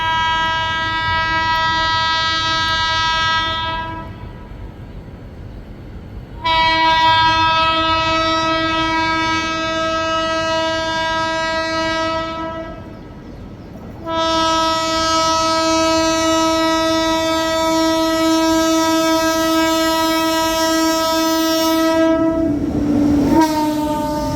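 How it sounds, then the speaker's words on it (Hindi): Maharashtra Sampark Kranti Express passing during an overtake, sounding three long, loud horn blasts separated by short gaps, with the last blast cut off under a rumbling pass-by. "वो आ गई सामने से महाराष्ट्र संपर्क क्रांति एक्सप्रेस MHSK।"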